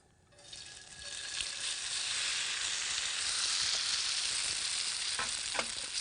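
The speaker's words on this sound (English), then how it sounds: "hear that sizzling? That's what you want." Potatoes hit a hot pan with garlic and cheese and break into a loud, steady sizzle that holds close and continuous, with light scraping and stirring clicks near the end.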